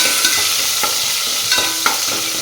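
Mustard seeds tempering and home-grown green chillies frying in hot oil give a steady, close sizzle, with a few sharp spatula taps and stirring clinks against the pan.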